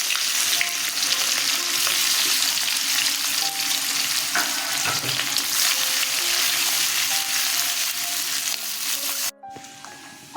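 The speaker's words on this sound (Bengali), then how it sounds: "সামান্য জিরে ফোড়ন দিলাম পেঁয়াজগুলো ছেড়ে দিচ্ছি" Sliced onions dropped into hot oil with cumin seeds sizzle loudly and continuously, a dense close-up hiss lasting throughout before cutting off abruptly near the end.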